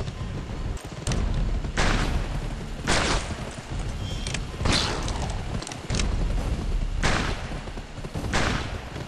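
Several loud booming barrel explosions burst at irregular intervals in the video game GUN, over a constant rumbling background of game noise, each blast sharp and heavy.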